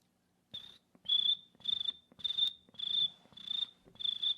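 A person imitates a cricket, making a steady series of about seven shrill chirping bursts at an even rhythm, close and clear with no talk over it.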